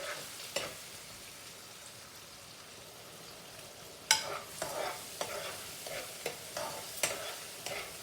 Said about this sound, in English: add the garlic and pepper into the container. Let this fry down like for a minute also.